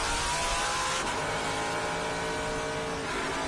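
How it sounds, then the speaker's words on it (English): Race cars during a Trans Am/GT qualifying session at Road America, heading through Canada corner, where they slow from about 170 to 60 mph: a loud, steady engine roar that fills the whole stretch without a break. "flat out at 170 again before dropping down to 60 miles an hour through Canada corner"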